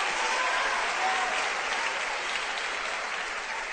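A church congregation applauds during a Portuguese-language evangelical sermon, a steady, dense wash of many hands clapping at moderate distance, sustained evenly throughout without voices standing out.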